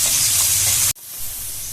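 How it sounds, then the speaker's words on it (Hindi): Finely chopped onions fry in a pan with a loud close sizzling hiss that cuts off abruptly partway through, then resumes as a softer, steady sizzle. "बारीक कटा हुआ प्याज डाल दीजिए। इसको लाल होने तक भून लीजिए।"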